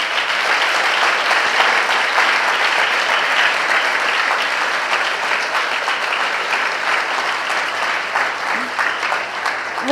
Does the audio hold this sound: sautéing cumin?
no